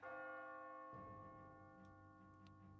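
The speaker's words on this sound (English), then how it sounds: "When you hear the bell ringing," A resonant bell rings in Catherine: Full Body, a sustained metallic tone with a rich layer of overtones, joined partway through by a second struck tone and a few faint ticking taps, fairly quiet and without voices.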